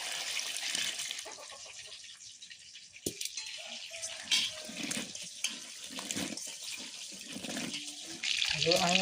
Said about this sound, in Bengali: জলটা দিই।